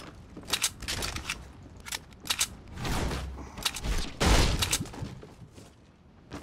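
Gunfire in Fortnite, with a sniper rifle among the shots, comes as a series of sharp cracks and bursts spread unevenly over several seconds, some close and loud, others softer.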